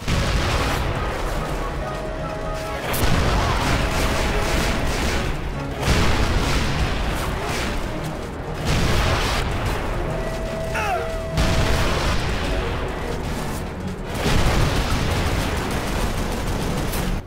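Cannon fire in the video game Call of Juarez pounds a steamboat, heavy booming blasts repeating about every three seconds, each followed by a rumbling decay, with faint mechanical clatter between.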